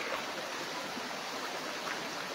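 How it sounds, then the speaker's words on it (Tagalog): A river running beside a farm lot in Real, Quezon gives a steady broadband rush of flowing water, even and moderately close, with no voices. "ito yung katabing ilog hanggang doon mga kaprops"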